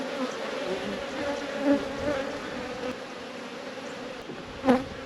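Honeybees in an open six-frame hive during an inspection, heard as a steady close buzzing drone with brief louder swells as individual bees pass near.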